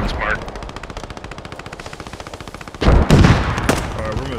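Rapid, evenly spaced bursts from an M1919A6 machine gun in the World War II shooter Post Scriptum rattle steadily, followed by heavier, louder gunfire and nearby shots; a voice is heard among them.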